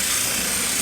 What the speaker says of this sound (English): go ahead and drill our first hole using a 3/16 drill bit